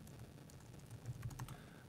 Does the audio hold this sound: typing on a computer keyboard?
yes